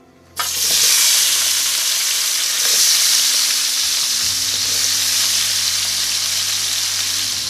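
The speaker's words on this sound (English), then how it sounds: "I fried this one like 3 minutes." Red pepper fries in hot coconut oil, a loud, steady sizzle that bursts in abruptly and holds close and continuous throughout, with no voices.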